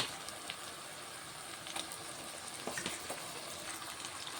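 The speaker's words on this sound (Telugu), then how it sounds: "ఇప్పుడు నేను చికెన్ వేసుకుంటున్నాను ఒక గంట ముందు అడిగి పెట్టుకున్న చికెన్ వేసుకుంటున్నాను" Marinated chicken goes into a pan of frying masala, giving a constant close hiss and sizzle with faint stirring scrapes, steady and moderately loud with no voices.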